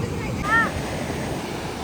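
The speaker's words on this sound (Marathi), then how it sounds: "लाटा तर लय बेकार आल्या." Broad wash of sea surf on a beach in Alleppey, Kerala, fills the clip steadily, with a brief tonal whistle near the start standing out over the continuous crashing waves.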